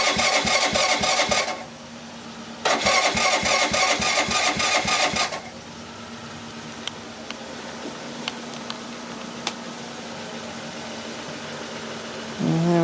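Suzuki GS 125 cafe racer motorcycle fitted with a new 200cc engine cranking over in two loud bursts of the starter, then catching and settling into a steady, close idle with a few faint clicks and a final blip.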